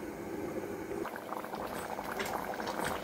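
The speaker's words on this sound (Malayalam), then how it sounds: "അടച്ച് വെച്ച് ഒരു 5 മിനിറ്റ്, അപ്പോഴേക്കും നന്നായിട്ട് കുറുകിയിരിക്കും" Rajma masala curry simmers in a covered pot, a soft steady bubbling and popping that grows busier after the first second, faint and close, with no talk.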